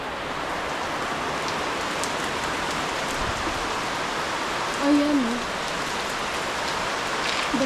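Heavy rain pours steadily in a dense, even wash during a downpour at a house, with a brief voice rising near the middle and faint speech-like sounds at moments.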